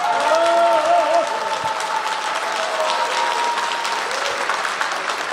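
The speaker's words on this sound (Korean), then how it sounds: "앞으로 우리 이모선 의원께서 진천과 음성 증평을 확실하게 발전시킬 수 있도록 성원 박수로 보내주시기 바랍니다" Sustained applause from an audience at a National Assembly member's constituency report meeting in Jincheon, Eumseong and Jeungpyeong, a steady dense wash of clapping with a brief voice near the start.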